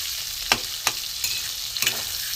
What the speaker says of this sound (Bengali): মাছের তেলে বেগুন ভেজে নেব।